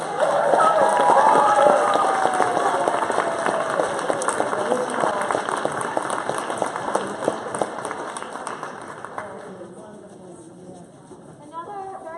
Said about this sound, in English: give these amazing kids another round of applause